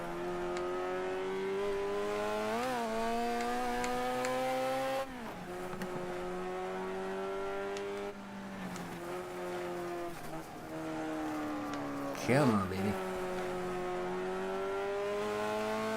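A race car with a fresh 1.6 liter engine in the video game Wreckfest, a loud sustained engine drone that revs and shifts pitch through gear changes, with a brief tire squeal near the end and a short spoken exclamation.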